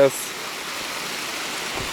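A rainforest waterfall in Springbrook National Park gives a continuous broad rushing hiss, steady and moderately loud, with a brief voice at the very start.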